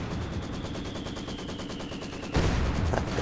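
DShK heavy machine gun with armor-piercing rounds firing in a World War II strategy game, a long rapid even burst of shots, then heavier impacts and crackling fire.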